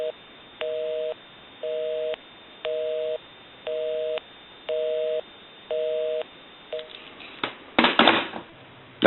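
Busy signal from an AT&T single-slot payphone that has been repaired and converted: a steady series of evenly spaced tone bursts with short gaps, heard clearly, ending in a burst of handling noise.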